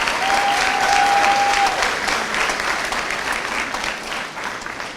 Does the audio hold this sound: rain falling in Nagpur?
no